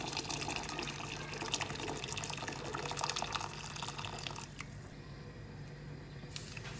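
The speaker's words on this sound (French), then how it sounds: "Je vais mettre donc de l'eau chaude, bien bouillante." Steady stream of boiling water poured into a pot over whole unpeeled potatoes, a continuous splashing rush that eases off near the end before a brief final splash.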